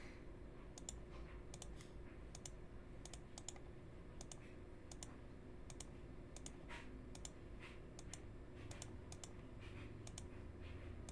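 Computer mouse clicks come in quick pairs and small bursts, spaced irregularly, faint and close, over a low steady background hum with no talking.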